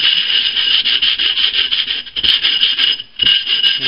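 80 grit sandpaper rubbed back and forth against the cut edge of a glass bottle, a loud close harsh rasping in quick repeated strokes with a brief pause near the end.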